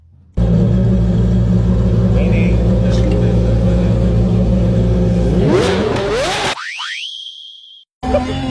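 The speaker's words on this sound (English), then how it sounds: "our cars sound like a Lambo" Car exhaust revving loudly, made to sound like a Lamborghini, with a deep steady engine drone that rises into an accelerating sweep before cutting off abruptly, then resuming briefly.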